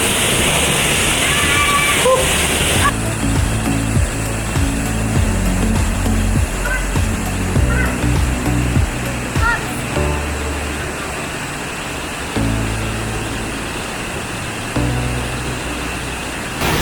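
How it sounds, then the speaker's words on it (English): Powerful waterfall of glacial meltwater from ice caps near the Indus River, a dense, loud, continuous roar of rushing water throughout, with engine-like low rumble underneath. "It's basically like a really strong powered waterfall."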